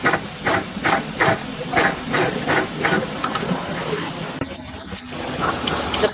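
A terminal riveting machine presses wire terminals, giving a regular series of sharp pneumatic clacks and hisses over a constant mechanical hum, close and fairly loud, ending in a softer stretch of running noise.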